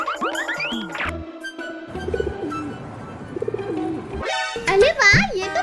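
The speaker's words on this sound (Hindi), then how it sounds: "अरे वाह, ये तो प्याला सा कबूतर का बच्चा है।" Soft, wavering coos of a young pigeon mix with lively chatter and playful cartoon-like sound effects.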